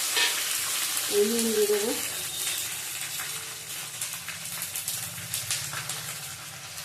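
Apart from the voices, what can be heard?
tomato frying in a pan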